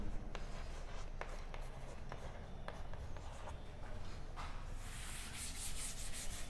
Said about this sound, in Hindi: हम यहाँ पे लिख देते हैं इसको